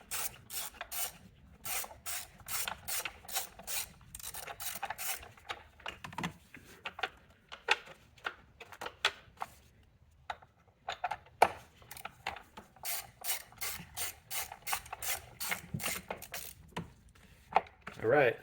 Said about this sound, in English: Just need to loosen the bolt there, and then we can be able to remove that.